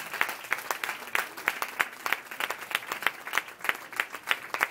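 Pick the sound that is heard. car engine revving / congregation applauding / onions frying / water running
congregation applauding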